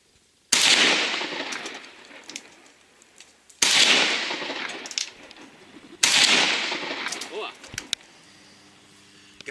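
Three loud, sharp AKM or AK74 rifle shots fired on a range, each a sudden blast followed by a long echoing decay, spaced about three seconds apart, then a quieter tail with faint clicks and handling noise.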